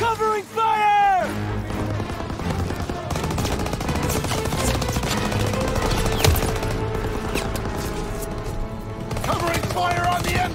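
Heavy sustained gunfire in Call of Duty: WW2 as covering fire pours onto a machine gun nest, dense rapid bursts and cracks layered over battlefield noise, with shouted voices in the mix.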